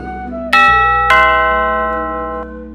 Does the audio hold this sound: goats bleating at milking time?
no